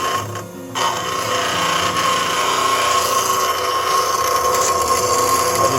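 A woodturning tool's bevel is sharpened on a grinder, making a continuous loud raspy grinding hiss with a steady high whine after a brief pause at the start.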